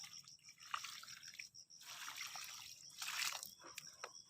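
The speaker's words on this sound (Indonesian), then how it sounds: "Gundukan pertama kami siram dengan larutan NPK" NPK Phonska fertilizer solution is poured onto a mound of soil outdoors, giving faint, uneven splashing and trickling bursts with short pauses between them, and a steady high hum in the background.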